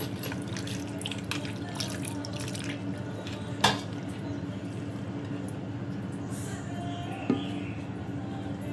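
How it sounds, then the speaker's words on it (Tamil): Water trickles steadily into rava bonda dough being mixed by hand in a home kitchen, a continuous soft stream with faint drips and two brief sharper splashes, close and moderately quiet. "தண்ணி வந்து கொஞ்சம் கொஞ்சமாக விட்டு மாவு அந்த பதம் உங்களுக்கு அப்போ தான் வரும் பாருங்கள்"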